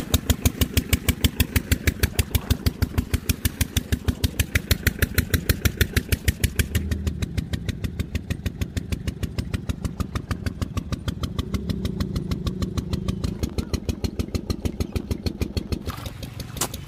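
A Peter diesel engine drives a farm water pump, chugging in a fast, regular, even beat. It runs loud and close, with the tone shifting slightly partway through.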